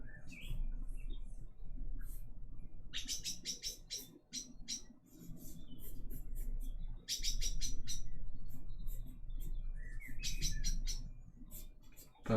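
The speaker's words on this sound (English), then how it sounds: "Bird's happy about the drawing." An indoor pet bird chirps near a live drawing session, with bursts of bright, rapid tweets that stop and start over a low steady room hum. No voices are heard.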